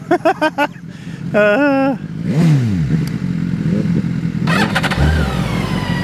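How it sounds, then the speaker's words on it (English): BMW K1600GTL and S1000XR motorcycles pass by, engines revving and rising in pitch, with a sweeping whoosh as they go past and the engine drone carrying on underneath. "We've all done a little drive-by with the bike."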